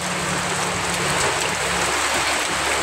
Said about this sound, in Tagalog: malakas pa rin ang ulan kahit sinasabi na wala na sa lugar namin ang bagyo